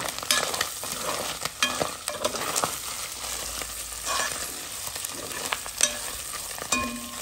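Herring frying in a pan for rougail, stirred repeatedly with sharp scraping strokes over a continuous close sizzle, heard alone without talk.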